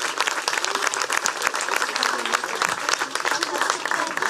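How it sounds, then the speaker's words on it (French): Loud, dense audience applause at an outdoor magic and mentalism show at Pairi Daiza, many hands clapping close and continuously with some voices mixed in. "je pense qu'on peut quand même applaudir Nathalie très fort"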